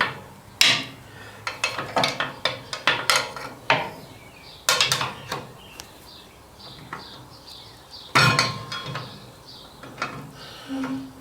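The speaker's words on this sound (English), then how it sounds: "All I'm doing is getting a screwdriver in here and trying to pull the" A screwdriver prying and scraping against the front brake caliper of a 2012 Harley-Davidson Sportster 72 while fitting brake pads, close metallic clicks, clanks and rattles in irregular bursts.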